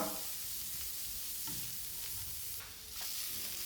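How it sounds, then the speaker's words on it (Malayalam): Chopped onion and green chili sauté in coconut oil in a pan, a soft continuous sizzle with occasional stirring scrapes and light clatter, heard alone without talk. "ഇതാ നമ്മൾ ഉള്ളി പച്ചമുളക് നുറുക്കിയത് അത് വഴറ്റിയെടുക്കാം"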